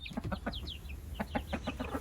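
Chickens cluck in a quick series of short calls, with a large hen among small chicks in a yard at feeding time, close and clear with no talking.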